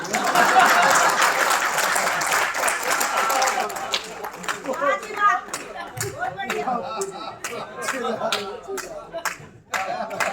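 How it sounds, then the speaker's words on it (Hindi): An audience at a Hindi comedy poetry gathering breaks into loud applause that starts as a dense wash, then thins into scattered distinct claps and laughter, with a voice speaking over the later part. "मीना जी सबसे ज्यादा ताली बजा रही है।"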